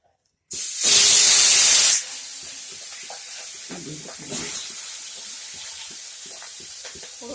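A fish head is dropped into hot oil and sets off a loud, sharp burst of sizzling spatter for about a second. It then settles into a steady, softer frying hiss with a brief flare midway.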